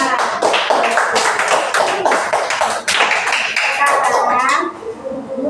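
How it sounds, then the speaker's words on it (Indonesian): A fifth-grade class group claps hands in an uneven, lively burst of sharp claps, with children's voices chattering underneath before it trails off. "ya, kelompoknya tepuk tangan."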